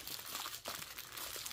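Scissors cutting open a package wrapped all over in adhesive tape, giving a close, continuous crinkling and crunching of plastic and tape with sharper snips mixed in, no voice.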